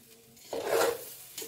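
Vegetable fried rice is shaken and tossed in a pan, making a single soft, scraping, rustling sweep that lasts under a second, then a brief faint clink against quiet.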